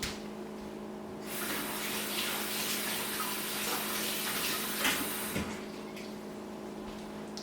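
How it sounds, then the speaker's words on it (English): Tap water runs steadily into a kitchen sink for several seconds while something is rinsed during microwave brownie prep, a broad even hiss that starts abruptly and cuts off near the end over a faint background hum. "Give this a quick rinse."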